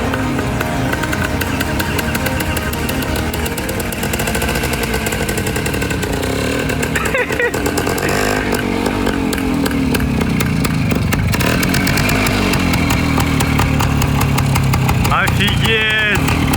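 An old Soviet Voskhod motorcycle, 53 years old, runs with a loud, rough, rapid engine rattle and blat that holds throughout while excited voices call out over it.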